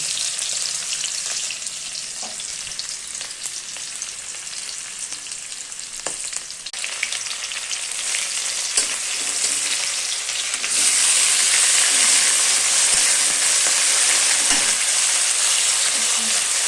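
Spices frying in hot oil in a pan for a drumstick and potato fish curry, a steady close sizzle that grows louder and brighter partway through, with occasional stirring scrapes.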